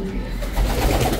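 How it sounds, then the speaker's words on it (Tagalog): A pure white racing pigeon gives a short, low coo close by, a soft throaty murmur lasting about a second. "Racing pigeon din yan guys."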